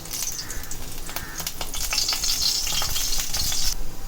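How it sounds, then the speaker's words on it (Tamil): Oil poured into a hot frying pan, a soft crackling sizzle building over the whole stretch with light scraping and clinks mixed in. "பேன் சூடாயிடுச்சு. இதில் வறுக்கிற அளவுக்கு எண்ணெய் ஊற்றிக்கலாம்."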